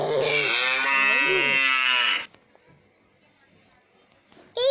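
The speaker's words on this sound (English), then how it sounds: "Where is the cow?" A cow lets out one long, loud, deep moo lasting about two seconds, close by, followed by near silence and a brief sound at the end.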